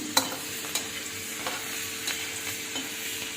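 Chana dal frying in oil in a pan over a low gas flame gives a constant close sizzle with occasional stirring clicks and scrapes, and no talk.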